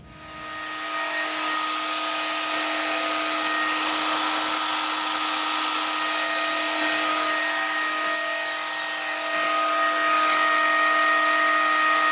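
Thickness planer machining a red oak board, a loud, steady broadband roar with high whining tones that starts up quickly and holds constant throughout, close by with no talking.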